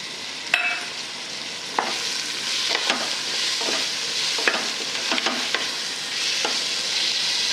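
Ground masala paste sautéing in a pan, a steady close sizzle with a series of soft stirring scrapes and taps spaced through it, no voices.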